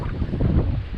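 Wind buffets a GoPro-style camera during a bicycle ride through empty Los Angeles streets in Playa Del Rey, a steady, close, rumbling low roar with no talking over it.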